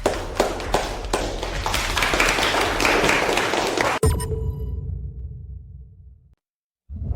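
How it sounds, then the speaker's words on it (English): Steady applause fills a ceremony hall, dense and continuous for several seconds, then cuts off abruptly and leaves only a low fading hum before silence. "Applause, everyone."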